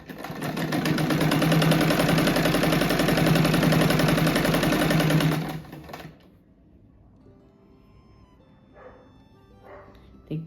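A sewing machine runs steadily and loudly for about six seconds, stitching a folded fabric strip for an oval rug, then stops, leaving near-quiet with a few small handling sounds.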